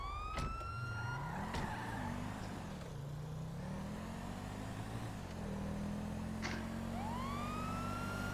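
Police car siren in a video game, wailing tones sweeping up and down over a steady engine drone, loud and continuous throughout with no talking.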